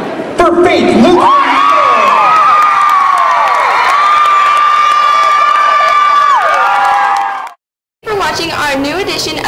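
Loud, close crowd of young voices cheering and screaming for a school cheer team, with sustained shrill shouts and whoops and some clapping, cutting out briefly before resuming.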